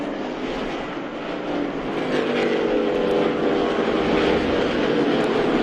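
Race cars at speed on the Daytona speedway banking during the Rolex 24 endurance race, a steady dense engine roar that swells slightly as the field streaks past, with no talk over it.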